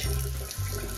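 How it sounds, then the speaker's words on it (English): Water runs from a kitchen tap while the edge of an avocado roll is wetted, a steady close rush with a brief break midway before it resumes. "And then lightly put some water on the edge"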